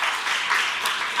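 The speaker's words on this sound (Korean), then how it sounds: "영광의 박수 한번" A congregation at a Sunday church worship service breaks into applause, a brief dense wash of clapping at steady volume with no talk over it.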